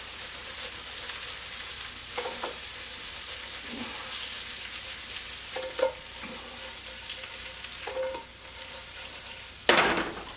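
A carrot dish with a pinch of cinnamon stirred in a pan, a soft sizzle under scattered scrapes and clinks of the spoon, ending in one louder scrape, heard close with no speech.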